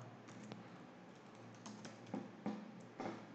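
Typing a file name on a computer keyboard, a quiet, uneven patter of close key presses with a few heavier strokes near the end, with no talking.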